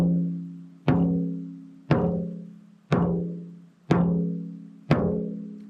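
Drum head tapped once at each tuning lug, six even strikes about a second apart, each a clear resonant tone decaying before the next, close and alone.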